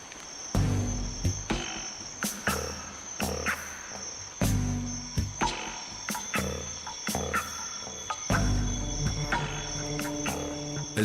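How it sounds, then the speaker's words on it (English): Insects in a Borneo rainforest at dusk, a dense chorus with a steady high whine and repeated pulsing bursts of chirps and calls, fairly faint and with no one speaking. "Tons of insects."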